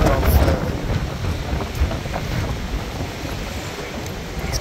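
Steady roaring wind buffets the microphone on Fifth Avenue in New York City, a continuous broadband rush with gusty swells and no clear pauses throughout.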